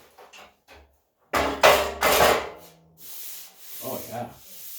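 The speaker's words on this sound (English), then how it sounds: "I'm going to be busy down here sanding and banging and crashing" Sanding on a dented 1978 Ford F100 fender in a home garage: a few light scrapes, then loud rough sanding strokes, followed by softer rubbing passes.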